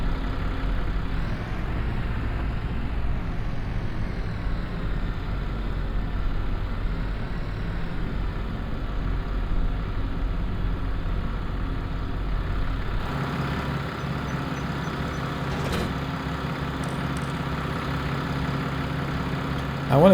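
A farm tractor's engine runs at a steady idle with a low, continuous rumble. The tone shifts partway through and ends in a brief clunk, with no talk.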